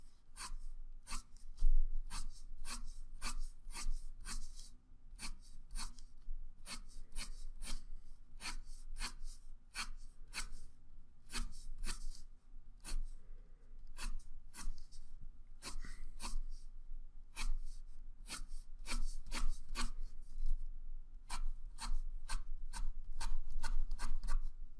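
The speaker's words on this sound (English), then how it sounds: "we're going to go ahead and draw the same type of lines across" Pencil strokes sketch lines of hair on paper, a quick, steady series of short, dry scratches, close and fairly quiet, with no voice.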